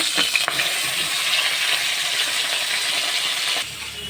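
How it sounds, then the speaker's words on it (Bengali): Bata fish frying in hot oil in a pan gives a steady, loud, close sizzle, with a brief clatter near the start, until the sizzle drops off sharply just before the end. "এখন একে একে মাছগুলো দিয়ে আমি ভেজে নেব"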